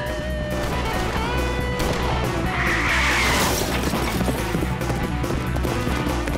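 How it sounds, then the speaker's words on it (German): A cartoon horse in a German-dubbed Lucky Luke episode brakes hard and skids, a loud, sustained screeching slide with squealing, tire-like tones that lasts several seconds without a pause. "Jolly, bremsen"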